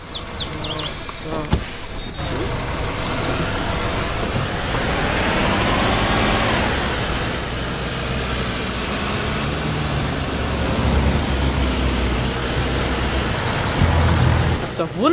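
A bus in the Bus Simulator game on PS4, its engine humming along and rising as it turns around on a forest road, with birdsong and insect chirps around it and someone talking over much of it.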